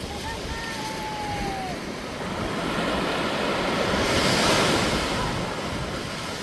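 Waves wash onto a small beach in Madeira as a steady, loud roar of surf with wind buffeting the microphone. The wash swells gradually toward the end.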